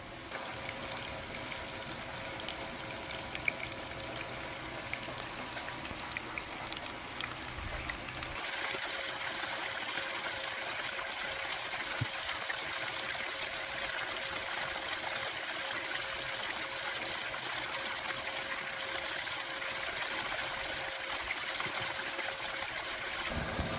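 Water washing steadily down a gold prospecting sluice fed with sands and gravel from a bucket, a continuous trickling, streaming wash that grows louder and brighter partway through, with no talking.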